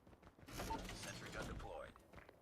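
A sentry gun deploying in the video game Call of Duty gives off a run of mechanical creaks, ratcheting and whirring gear-like clicks that lasts about two seconds at moderate loudness, with no voice over it.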